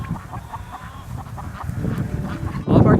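Free-range farm chickens cluck and call outdoors, a busy flock chattering close by over a rough, wind-like ground noise that swells louder near the end.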